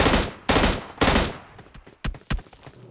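M16 rifle fire in the mobile game PUBG Mobile Lite: three heavy, close bursts at half-second intervals, then a pause and two sharper single shots with short decaying tails.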